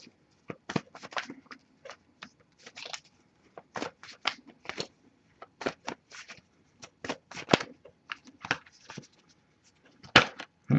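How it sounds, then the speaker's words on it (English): Tarot cards are shuffled and handled. Quick, close, crisp riffles and flicks come in uneven bursts, with short pauses between them and no talking. "and then we're just going to pull one card, and then we'll wrap it up"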